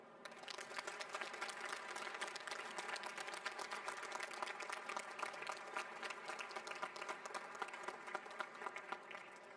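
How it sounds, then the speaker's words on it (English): Applause for the NASCO shipbuilders at a ship christening ceremony, a dense crackle of many hands clapping. It sounds distant and fairly quiet but holds steady all the way through. "Please give a round of applause to the shipbuilders of NASCO."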